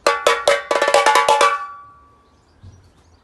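Tiny repinique, a small Brazilian drum, struck sharply several times in a quick, bright, ringing pattern, loud and close, with the tone decaying after the last hits and a faint knock near the end.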